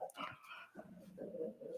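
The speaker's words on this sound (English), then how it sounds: "He's having a bad dream, and he decided he was going to bark at it." A sleeping dog barks and whimpers in a bad dream, a few short muffled woofs and yips close by, broken by brief pauses.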